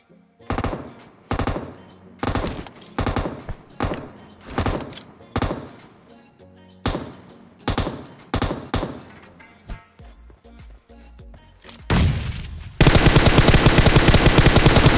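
Bursts of M249 light machine gun fire ring out in the PUBG Mobile battle royale game, as roughly a dozen short, sharp volleys sound close and loud before a dense, sustained roar of gunfire at the end.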